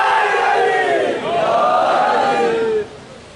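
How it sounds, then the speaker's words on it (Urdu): A crowd at a Muharram majlis in Haripur raises a loud, sustained chant of slogans in unison. The voices rise and fall together for about three seconds, then drop off sharply near the end. "شکر ہے پیچھے سے بھی نعرے کی آواز آئی ہے."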